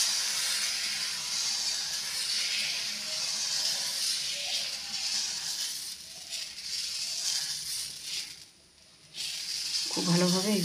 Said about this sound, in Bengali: এখন গরম তাওয়ার মধ্যে একটু সামান্য ব্যাটার দিয়ে দেবো